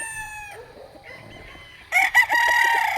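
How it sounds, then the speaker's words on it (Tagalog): Double-banded imported-line gamecocks crow, with one crow trailing off at the start and another loud, close crow bursting in near the end after a quieter stretch of faint farmyard sound. "At ang babait ng mga manok na to."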